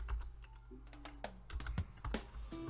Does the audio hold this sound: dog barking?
no